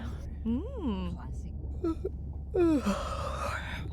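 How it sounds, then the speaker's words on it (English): A character in the video game Beyond Blue lets out a drawn, sighing yawn-like vocal sound, followed by short breathy noises and a second longer exhale over a low steady hum. "Was that a yawn? Did you get any sleep?"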